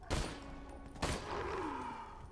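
A gun firing in the shooter game Borderlands 2, two quick, punchy shots with a short ringing tail, fairly quiet overall.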